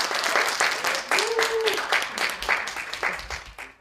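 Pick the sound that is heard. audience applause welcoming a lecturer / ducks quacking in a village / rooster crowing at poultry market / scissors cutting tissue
audience applause welcoming a lecturer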